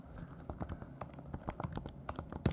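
Rapid, uneven keystrokes on a computer keyboard as a question is typed into a Q&A form, close and fairly quiet, with irregular clusters of key taps and no talking.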